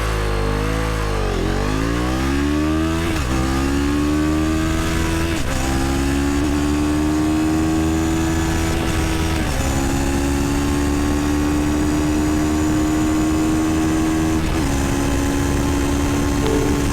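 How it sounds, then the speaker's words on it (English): A 2022 CFMoto CL-X 700 Heritage motorcycle accelerates hard from a standstill, its engine note climbing steeply through several gears with distinct drops at each shift, loud and close, with wind rush building, no talking. "Let's really test the acceleration of this bike and start from zero."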